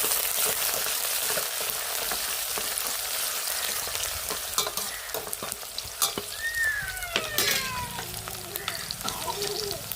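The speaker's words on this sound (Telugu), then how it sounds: "ఆయిల్ అయితే బాగా వేడైంది కదా పలావ్ దినుసులు వేసేసుకోవాలి పలావ్ దినుసుల తర్వాత ఉల్లిపాయ కరివేపాకు పచ్చిమిర్చి మొత్తం బాగా కలుపుకుంది" Pulao whole spices, chopped onion, curry leaves and green chillies fry in hot oil, a steady close sizzle with scraping stirs throughout and no talking.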